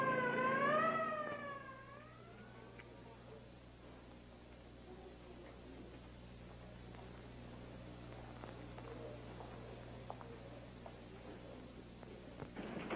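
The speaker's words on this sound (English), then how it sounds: "Please clear for the ambulance." An ambulance siren wails, rising and falling loudly at the start, then fades into a steady background hum with faint scattered noises, in a 1972 setting.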